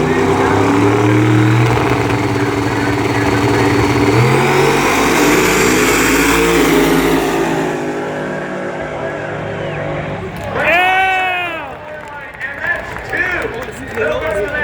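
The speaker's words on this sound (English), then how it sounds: "Ty is wheeling the Ranger with the single turbo Coyote swap on the left-hand side" A single-turbo Coyote-swapped Ford Ranger drag truck launches and accelerates hard down the strip at a Christmas Tree drag racing event at Bradenton Motorsports Park, a loud sustained engine roar that fades away, followed by a quick whistling, chirping sweep.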